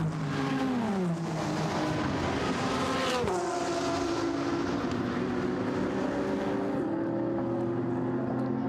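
Audi GT race car in Blancpain GT Series Endurance qualifying at Monza passing very close, a loud engine note sweeping down in pitch as it goes by, then shifting up and fading away, with no speech.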